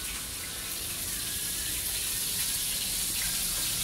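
Water running steadily from a tap, a constant close hiss and splash lasting a few seconds with no voices.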